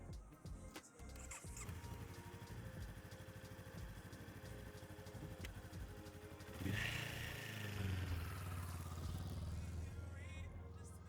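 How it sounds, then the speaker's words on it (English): A motorcycle engine cranks with a few sputters at night in a parking lot, then catches and settles into a steady idle, which grows louder and rougher as it revs midway. "starting up his motorcycle at night"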